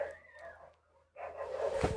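Neighbor's dogs barking in the distance, faint and brief, with a short muffled burst followed by a louder rough outburst near the end.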